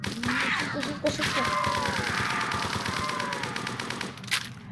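AK-47 fire in the video game Zombie Tower: rapid, sustained bursts of automatic gunshots, loud and near, mixed with growling and game effects and brief pauses between volleys.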